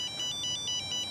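A mobile phone ringtone set for calls from mom plays as a quick, repeating electronic trill that pulses steadily and fairly quietly, with no voices over it.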